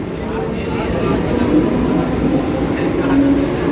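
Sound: local train departing station

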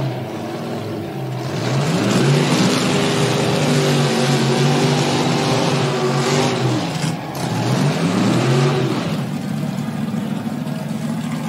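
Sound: burnout car engine revving, tires spinning

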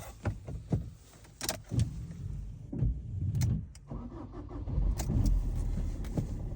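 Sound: Fiat Fiorino engine starting and idling

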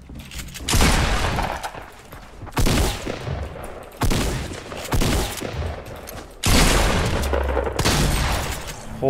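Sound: gunshots in a video game

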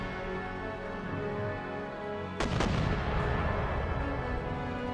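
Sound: howitzer artillery fire in video game Empire Total War

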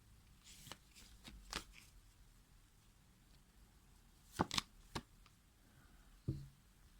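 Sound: shuffling tarot cards

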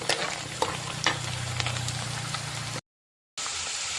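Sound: curry leaves sautéing in oil for fish curry

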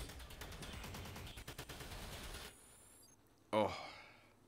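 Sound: explosions and gunfire in the video game Destiny 2

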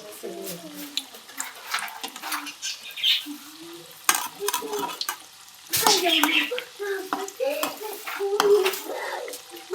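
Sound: egg snack frying in a pan until golden

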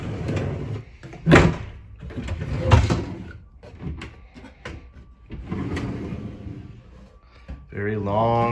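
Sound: vanity drawers opening and closing in tiny house

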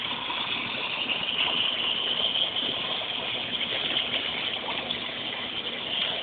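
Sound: dog splashing water in a pool

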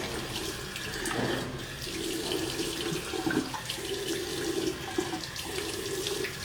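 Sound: water running from a tap while rinsing a face

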